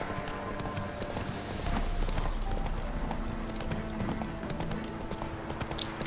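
In The Witcher 3 video game, the horse Roach gallops with a quick, rhythmic clip-clop of hooves that carries steadily throughout, backed by a dense game soundscape and faint snorting.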